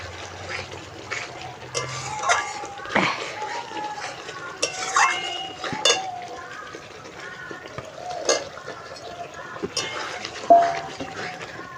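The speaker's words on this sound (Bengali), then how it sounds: "এখন আমি পনিরটা দিয়ে দেবো।" Paneer is being stirred into a pea curry in a pan, with a spoon clinking and scraping against the metal in irregular knocks over a low simmering background across roughly twelve seconds.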